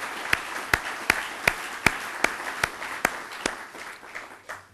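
Audience at a political institute lecture claps in slow, evenly spaced strokes, about a dozen crisp hits close by that soften and thin out toward the end.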